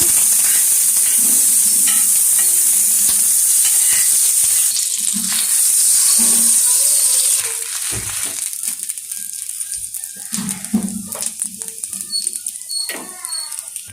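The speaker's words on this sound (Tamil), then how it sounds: "நல்லா பட்டர் போட்டு நல்லா ஃப்ரை பண்ணுறேன் பாருங்கள்" Bread slices fry in butter on a pan for a vegetable sandwich, giving a loud, close, steady sizzle that eases to a softer crackle with occasional light scrapes and taps.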